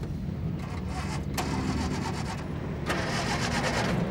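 An old car engine is cranked repeatedly on its starter without catching, producing a rhythmic churning whir close by, with sharper clicks at a couple of points.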